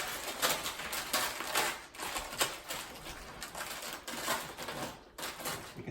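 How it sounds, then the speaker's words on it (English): Sugared pecans crunch in a rapid, irregular crackle of small crisp bursts, close and fairly quiet, with no voices. "You can hear the crunch."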